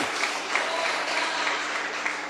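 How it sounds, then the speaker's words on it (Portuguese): Steady, dense clapping from a large church congregation during a sermon, continuous and fairly loud throughout, with no voices standing out. "Aplauda mais forte ao nome dEle."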